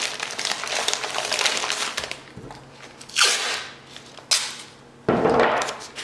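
Loose material crumpled and taped into an animal-body form for an alebrije sculpture: bursts of crinkling and crackling, then sharp tearing and ripping of tape, close and fairly loud with brief pauses between.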